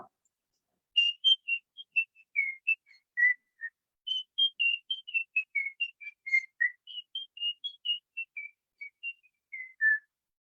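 A person whistles an imitation of a bird's song: clear, bright notes in quick clipped phrases, rising and falling, repeated several times with short pauses, close and alone.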